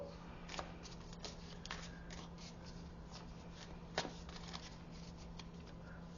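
Tarot clarifier cards are drawn and shuffled by hand, making a faint, soft papery rustle with a few light snaps and flicks against a quiet background hum, with no voices.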